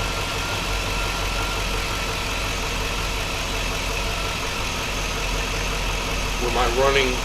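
A 2005 Chevrolet Avalanche engine idles slightly rough after a fuel injector balance test, giving a steady, even rumble throughout. A brief voice-like sound rises near the end.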